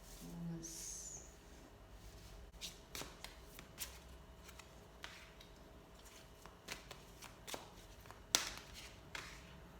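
Tarot cards are shuffled and handled to draw six cards, giving soft papery riffles and light taps in irregular bursts. The sounds are close and quiet, with no talk.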